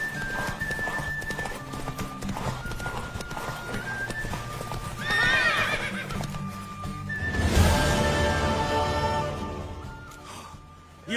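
A horse clip-clops and neighs loudly in a dramatic film scene, hooves thudding steadily under a background score, with a louder whinnying surge near the middle and faint voices at moments.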